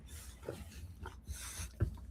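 Dogs snuffle, pant and grunt in short bursts close by, with low rustling and movement throughout and no clear barking.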